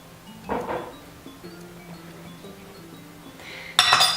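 Utensils clinking against a bowl while coconut sugar and cinnamon are stirred in, a few light scrapes and taps followed by a sharper bright clatter at the end.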